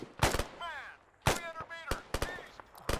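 Sharp gunshots ring out in the military shooter Arma 3, a handful of loud separate cracks and short bursts with echoing tails, spaced unevenly over a few seconds, with brief speech in between.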